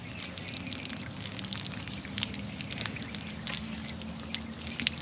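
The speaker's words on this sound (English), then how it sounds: "We got water coming out, but I know it's frozen in there somewhere." Water gushing from an RV grey water tank being flushed out in freezing conditions, a continuous loud splashing rush with scattered spattering drops and a low steady rumble underneath, without talking.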